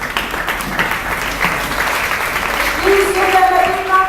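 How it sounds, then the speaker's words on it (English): An audience of children and guests applauds the young global leaders at a United Against Malaria and Right to Play event, a continuous wash of clapping that runs throughout, with voices mixed in. "Please give them a big round of applause"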